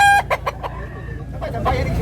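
A black rooster offered for sale makes a short series of loud, close clucks and squawks, followed by a rising crow-like call, with background noise and a little speech.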